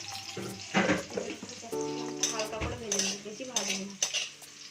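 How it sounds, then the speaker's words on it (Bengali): Capsicum frying in oil in a pan while cooking restaurant-style butter paneer, with close clinks of pots and utensils and stirring over a steady sizzle, and a voice speaking briefly. "তেলের উপরে ক্যাপসিকামগুলোকে আগে ভেজে নিচ্ছ নাকি"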